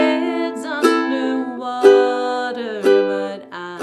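Ukulele strumming on the beat in a play-along of a song, with ringing chords struck roughly once per second in steady accents, close and clear, no talking.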